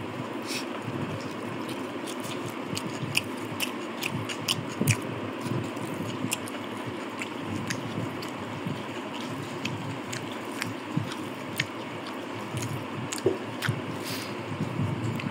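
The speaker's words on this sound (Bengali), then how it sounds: "আবারও মাখিয়ে নিচ্ছি পেঁয়াজটা ভাতের মধ্যে ভরে" Onion is squished and mashed into cooked rice by hand, making soft, wet, irregular squelching and sticky clicks close by, with a low background hum and no speech.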